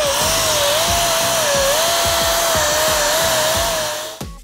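A steady, loud power sander whirs continuously on the metal of a VW Bus or Beetle body, with a rhythmic grinding pulse beneath, then cuts off abruptly near the end.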